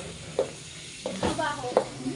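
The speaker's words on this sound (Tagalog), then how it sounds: "Ayan, nagluluto sila." Pancit frying at a 50th birthday venue gives off a steady sizzle. A utensil stirs and scrapes the pan in a few short, distinct strokes, with faint voices in the background.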